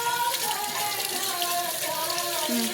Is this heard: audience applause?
no